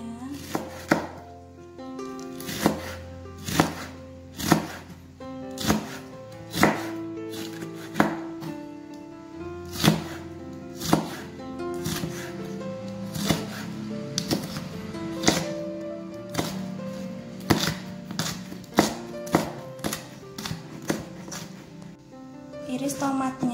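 Green chilies sliced with a knife on a cutting board for a cuttlefish dish, a series of crisp sharp chops in an uneven rhythm, close and loud, with a voice talking intermittently over them.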